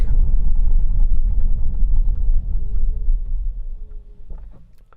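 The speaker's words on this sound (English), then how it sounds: "Around 20. Right, I'm going to brake." Chinese car slowing under braking from about 20 mph in town, with a loud, steady low road rumble and engine hum that gradually fades as it slows.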